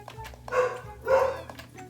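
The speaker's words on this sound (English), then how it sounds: "Sorry about my dogs. There might be someone at my door." Dogs barking indoors, two loud barks close by with quieter yips around them, no talking.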